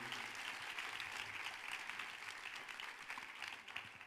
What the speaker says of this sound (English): Give another round of applause for Bill and Jen